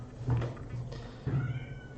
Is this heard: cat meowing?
yes